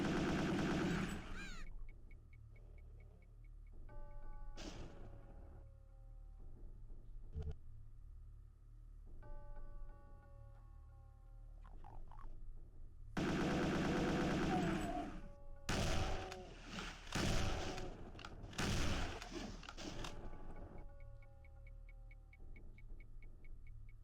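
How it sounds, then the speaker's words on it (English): Rockets fired at an imp in Doom: several sharp launch blasts and booming explosions, some in quick clusters, separated by quieter stretches of low game hum and chiming tones. "So I'll just fire a few rockets up there just to try and kill him."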